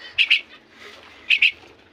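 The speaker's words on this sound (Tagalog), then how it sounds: "papakainin na natin tong maya natin" Pet Eurasian tree sparrow (maya) chicks chirp while being hand-fed, two short paired bursts of high, thin peeps a second apart, fairly close and with no talking.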